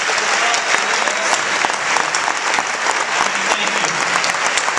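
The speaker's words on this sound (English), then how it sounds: "let's have a round of applause for her" Sustained applause fills a naturalization ceremony hall, a large crowd clapping loudly and densely throughout without a break, with faint voices mixed into the crowd noise.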